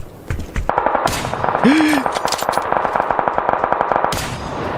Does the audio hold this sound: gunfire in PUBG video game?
yes